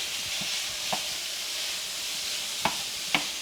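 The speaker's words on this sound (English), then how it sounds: "We've got 1 pound of lean ground beef going in." One pound of lean ground beef browning in a skillet over medium-high heat, a steady sizzle with occasional scraping stirs of a utensil, close and continuous with no talk.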